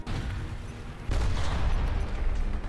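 In War Thunder Mobile, an Xm1 Chrysler tank fires its cannon with a single heavy boom about a second in, followed by a sustained rumbling roar of battlefield noise.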